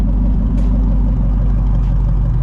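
A Shelby GT350 with no headers fitted sits idling after a warm start, a loud, steady, deep rumbling engine note with a faint tick partway through and no voices.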